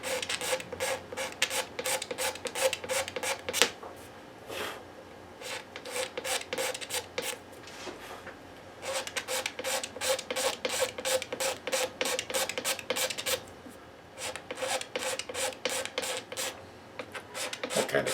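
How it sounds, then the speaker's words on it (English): A flexible razor blade scrapes a guitar nut to a compound radius, giving rapid, repeated rasping strokes in bursts with short pauses between them, close and crisp with no talk. "This razor blade has a bit of flex in it, so it kind of flexes to the radius."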